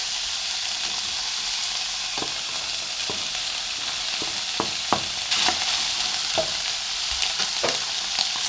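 Liver and onions fry in cooking oil with a steady sizzle, while a utensil scrapes and taps the pan in scattered strokes throughout, close and fairly loud.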